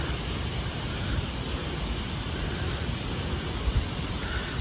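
A monsoon waterfall near Kattaa village in the Konkan region pours in a constant broadband rush, steady and enveloping, with no voices present.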